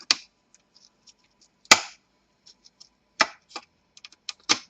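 Plastic casing being pried off an HP ProBook 450 G1 laptop, a series of sharp, close snaps and clicks spaced irregularly with near silence between them, no voices.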